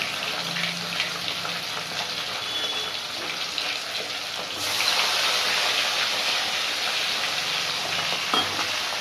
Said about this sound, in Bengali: তো গরম হয়ে তেলের মধ্যে মাছগুলো ভাজছে।